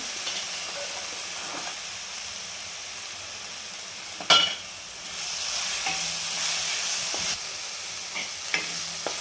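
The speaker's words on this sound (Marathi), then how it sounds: "हिरवी मिरची आलं लसूण कोथिंबीर कढीपत्ता आणि जिरे याचे त्याला पण एक मिनिटभर आपण परतून घेणार आहे" Green chilli, ginger, garlic, coriander, curry leaves and cumin sautéing in a pan for aloo paratha filling, giving a steady hissing sizzle with occasional sharp spoon scrapes and knocks, including one louder knock midway.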